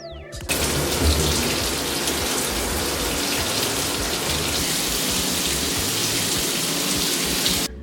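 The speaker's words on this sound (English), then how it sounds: "I'm gonna go ahead and get my shower out the way" Shower water runs in a home bathroom as a steady, close, full hiss that starts abruptly and continues unbroken for several seconds before cutting off, with no talking.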